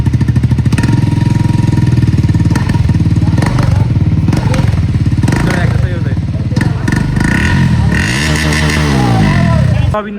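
A Triumph motorcycle engine runs close and loud with a rapid pulsing rumble, rising and falling through repeated revs, while voices speak over it in places.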